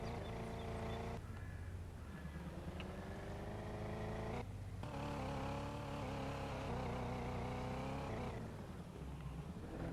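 Engine of a vehicle in a 1980s-style farming simulator game, hauling cattle, drones steadily and loudly throughout with sustained tonal harmonics and a brief dropout near the middle, with no talking.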